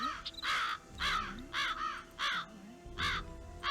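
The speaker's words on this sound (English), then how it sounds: "Why are the crows so loud suddenly?" Crows caw loudly again and again in the video game Nancy Drew: Ghost Dogs of Moon Lake, in a steady rhythm, about seven harsh calls close by over faint background noise.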